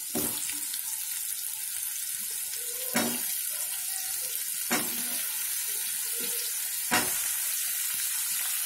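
Potatoes and pumpkin fry in a pan for a vegetarian pui shaak dish, giving a soft, steady sizzle broken by a few distinct stirring scrapes at intervals, with no talking.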